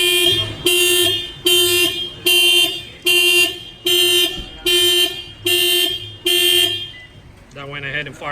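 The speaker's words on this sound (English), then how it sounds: "That went ahead and fired off the alarm." A 2020 Toyota Corolla car alarm triggered by an add-on shock sensor after the rim is banged: loud, close, repeating electronic siren bursts in a steady on-off rhythm, nine pulses before a warbling tone near the end.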